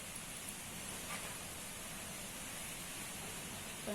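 Faint, steady rain hisses softly in the distance, an even wash of noise with no voices.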